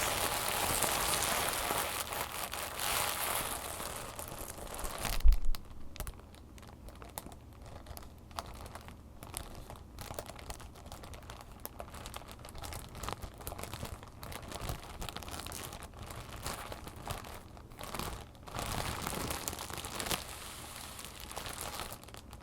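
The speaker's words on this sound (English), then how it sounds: "louder crinkle sounds" Light paper, like papier-mâché sheets, crinkled in close, steady bursts of dense crackling, with a sharp louder crunch near the start, all without speech.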